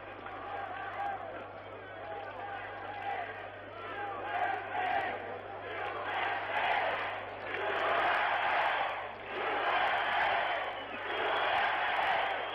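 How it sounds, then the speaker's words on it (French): Spectators at an Olympic basketball game between the USSR and the USA clap and cheer in a broad arena roar that swells in waves, with a commentator speaking over the crowd. "les spectateurs qui applaudissent son équipe"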